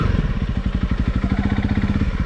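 A Honda CRF300L motorcycle engine pulls in first gear on a damp woodland enduro trail, a steady, close, throbbing low pulse of firing strokes with a rhythmic clatter and no talking.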